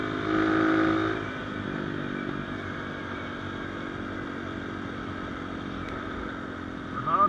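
A Hurricane V2 Nitro Motors 250cc dirt bike rides through town, its engine droning steadily at moderate, even speed with a brief louder rev at the start and a slight rise at the end.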